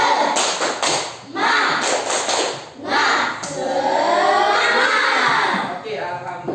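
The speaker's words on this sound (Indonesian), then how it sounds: "Tepuk semangat." A group of schoolchildren in a classroom performs a 'tepuk semangat' spirit clap, loud bursts of claps in a patterned rhythm, with children's voices mixed in and a drawn-out cheer toward the end.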